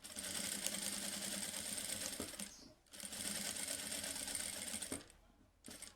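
A sewing machine stitches straight quilting lines with the presser foot down, fast steady needle chatter in two long runs, each stopping abruptly with a short pause between.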